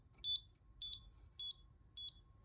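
A CE Electronics ACME lift position indicator sounds four evenly spaced short electronic beeps, shrill and fairly faint, with no talking.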